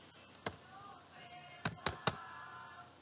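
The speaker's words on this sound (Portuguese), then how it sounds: "E agora eu posso digitar normalmente os itens" Sparse keystrokes on a computer keyboard while entering stock items, a few isolated clicks at the start, then three quick taps close together, quiet and near, with no talking.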